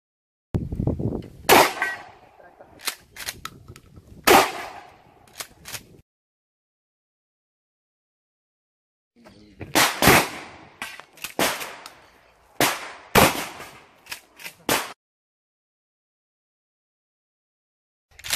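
Handgun shots on a basic shooting course range, a series of sharp, loud cracks in uneven clusters of several rapid reports, separated by a long silent pause.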